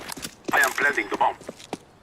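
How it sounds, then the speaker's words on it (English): Bomb being planted in CS:GO, a run of quick mechanical clicks and taps with short beeping tones, all under close commentary speech. "I am planting the bomb."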